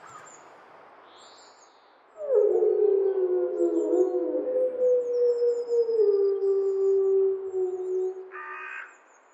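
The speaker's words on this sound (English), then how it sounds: "Then time of the day changes to 1 and you hear the wolves." Wolves howl in a looping dusk ambience for a video game, a long rising-and-falling howl swelling in loudly after a quiet stretch and holding with layered voices, a few faint bird calls above.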